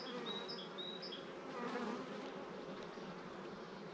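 Honeybees crowding a queen-rearing hive box, a dense, continuous buzzing swarm heard up close and steady, with no talking.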